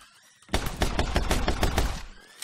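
Rapid bursts of gunfire from the video game My Friend Pedro crackle hard and close for about a second and a half, with shots packed into a dense volley that cuts off abruptly.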